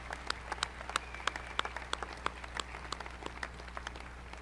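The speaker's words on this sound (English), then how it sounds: "Please give all of our honor students and their families one more round of applause." Scattered applause from a modest audience honoring nursing honor students and their families at an awards ceremony, individual claps standing out sharply over a steady low hum, fairly quiet and sparse.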